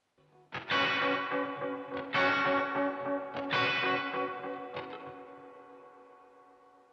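Four dry, clipped electric guitar chord stabs played in a slow offbeat rhythm, each ringing briefly before the next, with the last one fading out.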